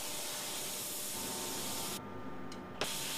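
A spray gun laying nice, even wet coats of paint on a car after extensive bodywork, a loud continuous hiss that cuts out briefly near the end before a short burst resumes.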